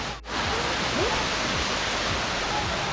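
A steady, loud roar of falling water at Phiang Din Waterfall in Thailand fills the clip, broadband and continuous, with a brief dip near the start and faint voices of children and others blending in.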